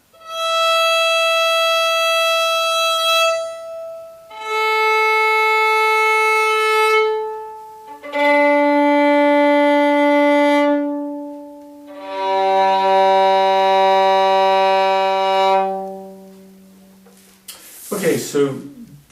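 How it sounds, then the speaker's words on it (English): Violin bowed with slow upstrokes, giving four long sustained notes at different pitches separated by short breaks, close and loud, ending with a brief rustle. "Now go back down with an upstroke."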